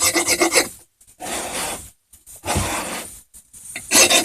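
Rough rasping strokes as the edges of a lithography stone are filed and rounded, loud and close in repeated bursts separated by short silent pauses.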